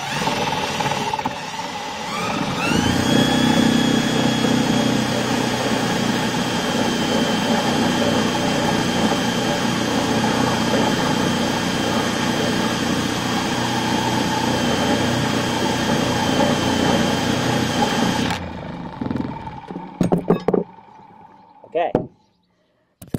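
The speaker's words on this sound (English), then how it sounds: "I hit the drill." A power drill grinds down a part for a gas generator being converted to wind and pedal power, a loud sustained high whine with steady droning overtones that runs for about fifteen seconds, then cuts off into a few clatters and handling knocks.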